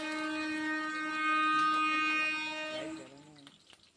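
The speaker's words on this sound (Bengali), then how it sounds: "আমাদের এখানে প্রচণ্ড ট্রেন যায়, বাড়ির পিছন দিকে লাইন তো তো প্রচণ্ড ট্রেনের আওয়াজ।" A train horn blares loud and sustained with steady harmonic tones on the rail line behind a house, swelling then fading after about three seconds as clattering train noise trails off.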